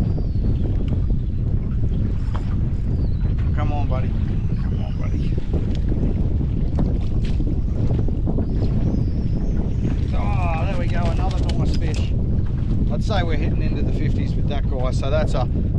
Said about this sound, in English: Forget the howling gale.